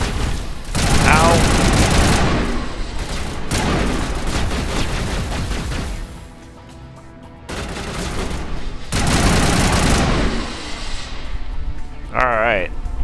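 Loud, dense bursts of gunfire from the Mass Effect video game, rapid volleys and booms in heavy stretches with a short quieter gap, a voice briefly audible between shots.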